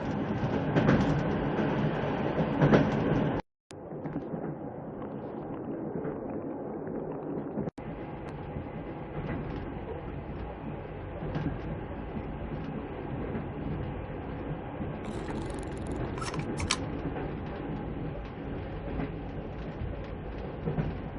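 Moving train interior in the adventure game Secret Files Tunguska, a loud continuous rumbling rail roll with rhythmic clickety-clack, briefly cut out twice, then resuming steadily with a few higher metallic squeals near the end.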